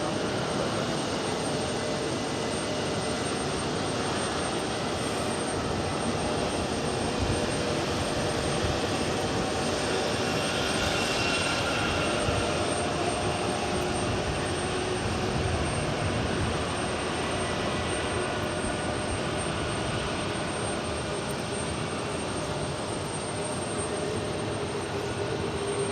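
An Etihad jet airliner at JFK airport, a steady, broad engine roar that stays loud and even throughout, heard from some distance without any talking.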